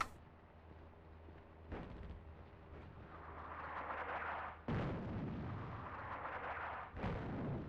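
Artillery fire in the video game Attack at Dawn: North Africa, several heavy booming blasts, each a sudden hit followed by a long rumbling roar, spaced a few seconds apart with no voices.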